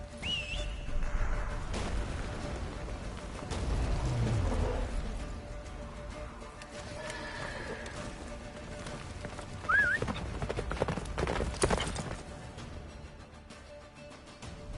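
A horse gallops in The Witcher 3 during the battle at Kaer Morhen, with steady rhythmic hoofbeats under game ambience, a whistle-like cry and a faint whinny breaking through midway.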